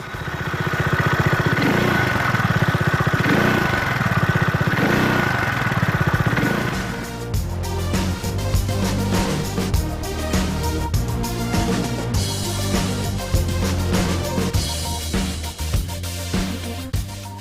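A Peugeot Metropolis 400 three-wheel scooter engine revs up under acceleration, a loud, steady rising drone that drops to a lower, choppier tone after about seven seconds as it carries on near and alone.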